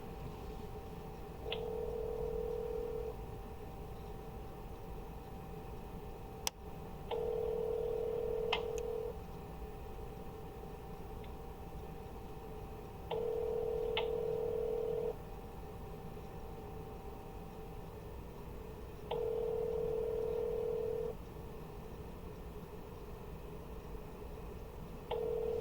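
Four long steady telephone tones sound at an even pace, each a couple of seconds, with short high blips between them, as an outgoing call rings before reaching voicemail; no talking.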